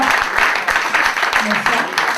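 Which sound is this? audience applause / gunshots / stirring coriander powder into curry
audience applause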